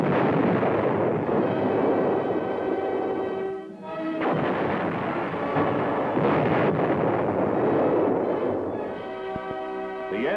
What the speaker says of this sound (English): A 165mm cannon designed to fire at short ranges with extreme accuracy